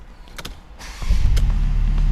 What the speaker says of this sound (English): So let's start up the car first.